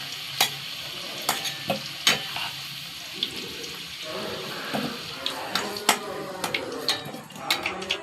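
Whole garam masala spices hit hot oil in a pan after potatoes have been fried, crackling and sizzling with scattered sharp pops and stirring clatter, plus faint background voice.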